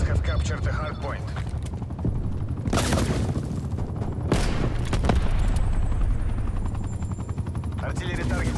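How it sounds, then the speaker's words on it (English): An incoming artillery strike in Black Ops Cold War, with sharp loud blasts and gunfire cracking over a constant rumbling battlefield din and helicopter-like drone, while voices talk in between. "Artillery inbound."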